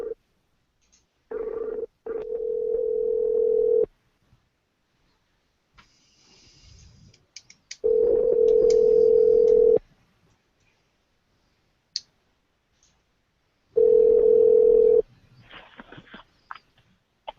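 Outgoing telephone call tone: three steady, even buzzing bursts of roughly two seconds each, separated by silent gaps, with a few faint clicks in between.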